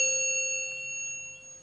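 A bright electronic bell-icon ding effect, a single clear chime with steady high ringing tones that sustain and slowly fade over under two seconds, heard alone.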